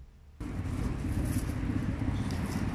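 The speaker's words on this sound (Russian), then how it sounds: "А сейчас я вызываю такси и еду к дочке." Steady low engine and road rumble from inside a taxi car, starting abruptly after a brief quiet moment and continuing evenly, close and moderately loud with no one talking.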